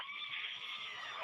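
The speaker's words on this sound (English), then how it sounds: "Hear that screaming inside the capsule?" High, steady shrill whine filling a space capsule as its drogue and main parachutes deploy during descent, continuous and fairly loud for just over a second with no talk.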